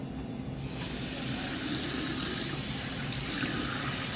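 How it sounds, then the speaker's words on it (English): Tap water runs into a sink for handwashing, starting quietly and then swelling into a steady, close, loud rushing stream as hands are wetted. "Wet hands first with the water,"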